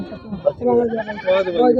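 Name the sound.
goat bleating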